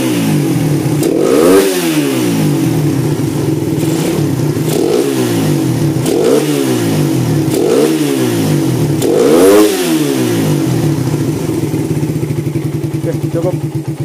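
A bored-up motorcycle engine, hot after tuning, revs repeatedly in loud, close bursts about every two seconds, each blip rising and falling over a steady rough idle.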